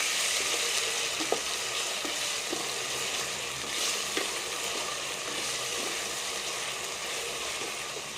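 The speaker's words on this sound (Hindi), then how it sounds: "अल्हम्दुलिल्लाह लहसुन अदरक का पेस्ट हमारा अच्छी तरह भून चुका है।" Garlic, ginger and green chili paste fry with onions in hot oil, a steady close sizzle with occasional soft stirring clicks and scrapes throughout.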